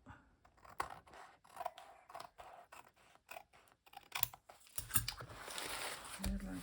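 Scissors snip off part of a mixed media piece, giving a series of quiet crisp cuts and paper rustles, close and faint, followed by louder handling and scraping of the paper near the end.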